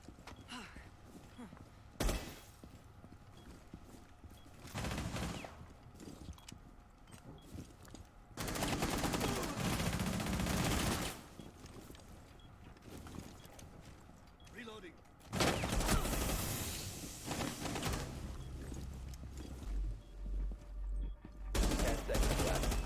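Combat gunfire in Rainbow Six Siege, loud bursts of rapid shots in several separated volleys with quieter gaps between, the heaviest stretches lasting a few seconds each.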